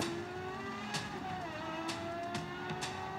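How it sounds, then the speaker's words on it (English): Toyota Vios race car engines drone and rev at a distance before an autocross warm-up lap, their pitch rising and falling, with a few sharp bursts cutting through the steady roar. "it's some revving from the cars who are roaring to go"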